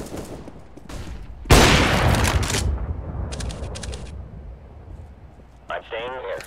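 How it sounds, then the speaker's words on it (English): A flashbang grenade goes off in CS:GO with a sudden loud blast that rings out and slowly fades, followed by scattered clicks and game noises, with a voice speaking faintly at times. "Flashbang."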